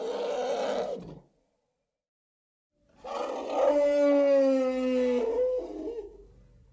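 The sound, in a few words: elephant call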